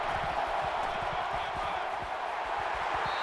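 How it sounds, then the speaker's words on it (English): A college football stadium crowd at an Ohio State vs Oklahoma playoff game keeps up a steady, distant roar of cheering throughout. "Becoming the 12th man, the crowd is always into it here."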